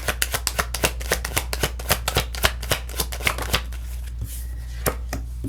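Tarot cards are shuffled in steady, quick riffling slaps, a close and fairly loud run of crisp taps that keeps an even rhythm before softening at the end.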